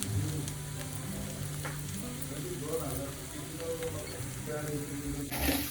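Potatoes fry in a pan as coriander goes in for a Gudi Padwa potato dish, a steady close sizzle with occasional stirring scrapes and a sharper hiss near the end.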